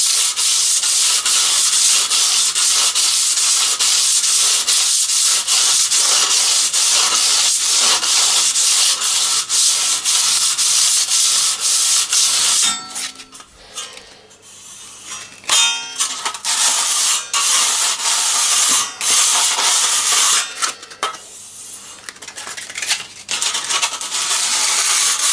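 Steel trowel edge rubbed on sand cement, a continuous loud abrasive scraping for about half the time, then a brief lull followed by further uneven rasping strokes.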